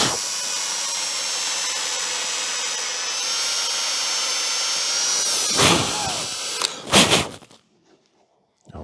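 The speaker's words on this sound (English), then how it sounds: "It's always tough to drill a big hole in a nice finished project like this." A power drill bores a large hole through a finished wooden piece, whining steadily for several seconds before a couple of louder bursts as the bit breaks through, then quiet.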